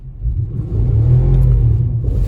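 Infiniti FX50 with bald tires accelerating in snow, a steady low engine rumble and whir that swells slightly as the throttle holds, close and loud with no talking.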